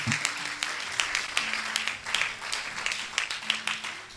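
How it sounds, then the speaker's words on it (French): A church congregation applauds for Jesus during a sermon, steady rhythmic clapping from many hands filling the hall at moderate distance, with a few sharper claps standing out. "Acclame pour Jésus."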